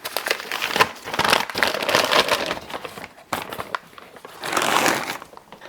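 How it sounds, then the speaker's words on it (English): Paper crumpling and crinkling in bursts while being pushed into a garbage can during bacon curing prep, close and fairly loud, with a brief pause midway. "I can put this paper straight into the garbage can."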